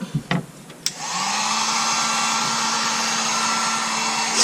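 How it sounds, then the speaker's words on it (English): A heat gun blasts hot air onto a wooden chair seat to strip the old finish, starting after a few light clicks and handling noises, then holding a steady, loud, close whooshing roar to the end. "Something to keep in mind when using a heat gun is that you can very easily burn your fingers"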